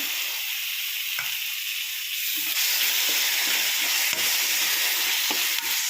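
Loud, continuous hissing sizzle of tomato puree frying in a pan, with a few faint clicks of stirring; no talking.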